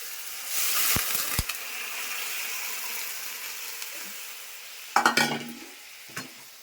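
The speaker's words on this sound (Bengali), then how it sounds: "আমি গরম জল করছিলাম করে রাখছি ওই জলটা দিয়ে দিচ্ছি" Spice paste sizzles and is stirred in a hot pan for a raw-banana fritter curry, with a steady frying hiss, then a loud splashing surge as hot water is poured in, settling into a softer bubbling.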